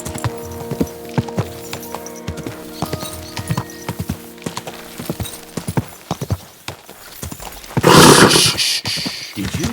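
A horse in Kingdom Come: Deliverance 2 clip-clops with steady, close hoofbeats, then lets out a loud neigh near the end.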